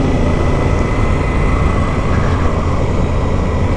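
Paul's four-cylinder, 90s-style motorcycle engine roars steadily while riding, a loud, continuous drone mixed with heavy wind rush and no pauses.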